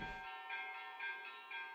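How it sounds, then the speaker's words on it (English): Church bells ring out on a morning in Albania, a sustained, shimmering peal of overlapping tolls that carries steadily from a distance with no voices present. "So we've got lots of church bells this morning."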